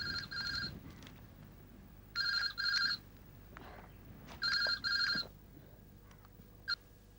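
Three pairs of loud electronic telephone rings sound in a quiet room in a classic Hindi TV serial, evenly spaced with short pauses between them and low background noise.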